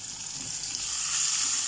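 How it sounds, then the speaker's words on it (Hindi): Small onion frying in a pan for masoor dal with vegetables, a steady, close hiss of sizzling oil that builds slightly louder toward the end, with no talk. "ओनियन हमारा सॉफ्ट होने तक, और उसका ब्राउन होना शुरू हो जाए तब तक इसे फ्राई करना है"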